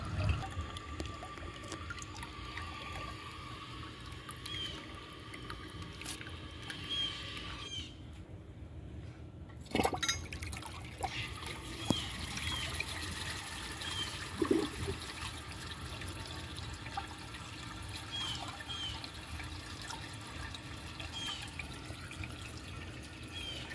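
An Eljer Windsor Lowboy toilet flushes with a dish towel in the bowl. After a quiet stretch, a sudden gush of water swirls and drains, followed by a long, steady refill trickle heard from nearby.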